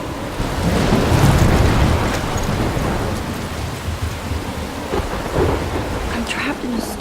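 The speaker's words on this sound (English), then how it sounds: "I'm trapped in a storm?" Thunderstorm with rain in the video game Life is Strange: steady loud rainfall with deep rolling thunder rumbling through, no voices.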